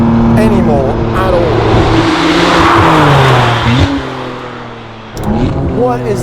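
Novitec-tuned McLaren Artura with a new exhaust system, about 735 hp, accelerating hard with rising engine revs through several upshifts, loud and close, followed by a brief lift-off and a renewed pull.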